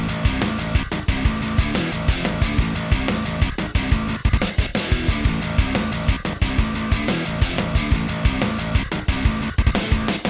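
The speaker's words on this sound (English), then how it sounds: "So together with bass and guitar and drums, it sounds like this at the moment." A rap metal riff plays with distorted guitar, a plugin bass and programmed plugin drums, dense and loud, with punchy kick and snare hits driving a steady rhythm throughout.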